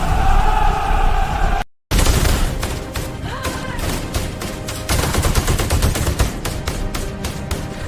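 Rapid bursts of gunfire crackle loudly and continuously, with a brief silent gap early on, then dense volleys of shots over a noisy background.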